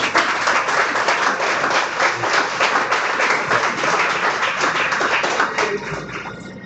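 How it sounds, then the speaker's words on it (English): Audience applause at a competitive gaming event, dense rapid clapping from a crowd filling the whole stretch, loud and steady before tapering slightly at the end. "give one more applause for him"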